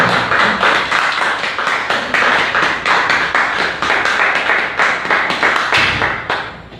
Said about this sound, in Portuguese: Vamos dar uma salva de palmas bem forte ao Senhor Jesus.